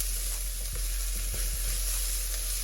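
Garlic and ginger sizzle steadily in a pan over medium heat for a black pepper tofu stir-fry, with a few soft stirring knocks over a constant hiss and no talking.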